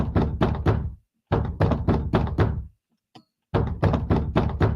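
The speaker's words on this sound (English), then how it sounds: "We have a knock at the door." Three bursts of rapid, loud knocking on a door, each a quick run of hard thuds separated by short silences, close and alone.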